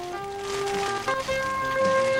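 Rain falling steadily during a 1988 mountain marathon event in Kidland Forest, a soft continuous patter outdoors with faint tonal sounds mixed in.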